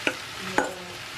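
Shrimp going into a hot pan, heard as two short wet hits with brief crackles over a low, steady sizzle, close by.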